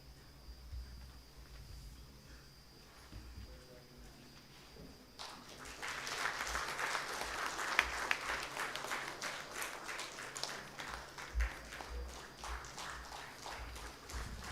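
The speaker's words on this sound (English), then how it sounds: "Ladies and gentlemen, please put your hands together once again." At ACECON 2025, an international conference on concrete innovations in Hyderabad, an audience breaks into steady applause after a quiet stretch. The clapping stays fairly soft and distant and lasts for several seconds.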